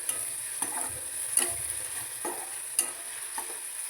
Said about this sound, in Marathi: मी डाळीला एका साईडला फोडणी देते